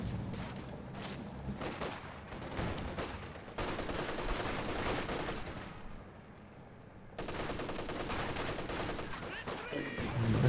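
Machine gun fire in the Company of Heroes strategy game, a steady rattle of distant bursts mixed with other battle noise under a commentator's voice.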